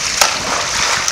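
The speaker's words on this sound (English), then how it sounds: "Smack the water." A hand smacks the water, giving a sharp splash near the start followed by sloshing and a second lighter slap at the end, close and loud over a brief moment.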